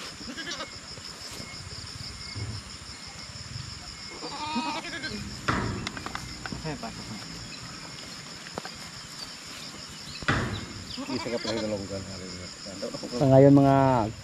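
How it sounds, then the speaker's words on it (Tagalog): Goats on a rural farm give a few bleats, including a loud close call at the end, over a soft steady bed of insect chirping, with occasional thumps and rustles between them. "Yung kambing natin mga kaprobinsya, oh, pinakilala natin sila."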